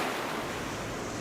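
Ocean waves at Morjim beach in Goa roll in as a continuous broadband surf wash with some wind rumble, steady and fairly loud, with no voices.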